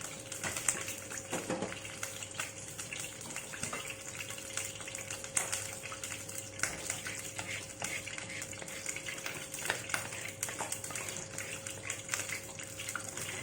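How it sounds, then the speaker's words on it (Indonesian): Steady sizzling and crackling of beef (empal) frying in hot oil, close by, with occasional stirring clatters and no speech. "Kita siapkan untuk menggoreng empalnya"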